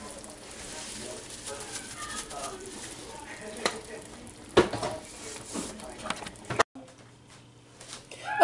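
Pasta being stirred together with sauce in a pan gives soft wet scraping and occasional clinks of a utensil against the pan, with speech over it and a short dropout near the end.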